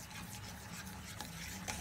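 A spoonful of butter is stirred into a thickening batter mixture in a pan on the heat, with soft, steady scraping and swishing that stays quiet and close.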